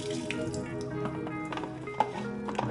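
Water is dumped out of a film developing tank during E6 colour positive processing, a short run of splashing, dripping and gurgling liquid at close range.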